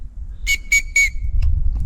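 A person whistling on a mountain trail in the Greater Fatra range to warn off bears: three loud, close, sustained shrill whistles in a row, then a couple of short faint chirps against wind rumble.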